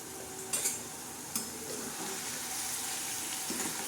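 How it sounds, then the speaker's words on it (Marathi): Fenugreek and potato stir-fry (methi bhaji) is turned in a hot pan, giving a steady sizzle with a few soft scraping knocks from the flip. "तर आता ही भाजी अजून परत एकदा पलटी मारूया."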